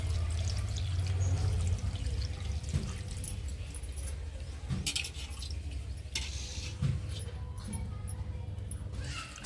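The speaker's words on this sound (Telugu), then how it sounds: "నేనైతే రెండు పావులు నీళ్ళు అయితే వేస్తున్నాము" Water is poured into a pot of chicken being boiled for biryani, a running splash and trickle over a low hum, with a few small knocks and clinks along the way.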